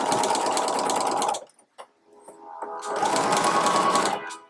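A sewing machine stitches a tote bag in two loud, steady runs of rapid mechanical whirring, separated by a brief pause with a few clicks and handling noises.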